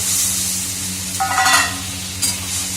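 A small splash of water goes into a hot frying pan of sizzling spices, giving a brief, louder hiss and crackle over a steady low frying sizzle, with a second short flare near the end.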